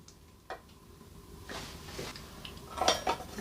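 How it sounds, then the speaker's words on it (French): Glass jars of homemade foie gras are closed with their lids, giving a few light clinks and metallic taps of lids against glass, faint and close, with a small cluster of clicks near the end. "Et maintenant on vient fermer les bocaux."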